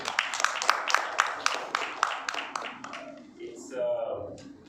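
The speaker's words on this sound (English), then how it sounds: "So I would like to actually honor everyone here with a round of applause" An audience at the Umagine Chennai tech and entrepreneurship summit claps in a steady, evenly spaced rhythm of about a dozen crisp claps, which fade into a speaking voice.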